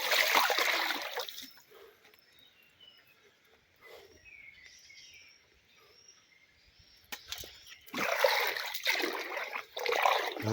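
Quiet water of a creek beside a bamboo grove trickles and dribbles softly in the distance, framed by louder rustling bursts at the start and end.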